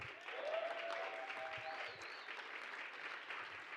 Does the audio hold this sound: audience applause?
yes